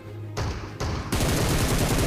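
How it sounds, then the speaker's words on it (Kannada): Shotgun fire in the mobile battle-royale game BGMI, heard as loud, dense back-to-back blasts that run together into a sustained roar. "ಇಲ್ಲೂ ಒಬ್ಬ ಶಾರ್ಟ್ ಗನ್ನಲ್ಲಿ ಹೊಡಿತಿದ್ದ"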